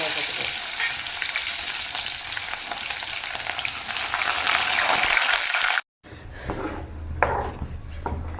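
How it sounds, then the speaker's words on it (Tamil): Dense crackling and popping of mustard seeds spluttering in hot oil, loud and continuous, briefly cutting out before the sizzle resumes more softly. "கடுகு பொரிஞ்சிருச்சு"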